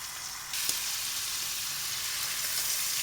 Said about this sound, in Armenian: ավելացնում ենք բեկոնը և թողնում ենք, որպեսզի տապակվի